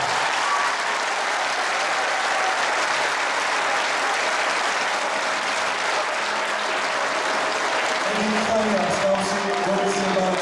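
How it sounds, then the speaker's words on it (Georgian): Audience applause at a dance concert by a choreographic ensemble in Mtskheta, a dense, steady clapping from a large crowd that holds throughout, with a few voices calling out near the end. "ტაში დაუკარით"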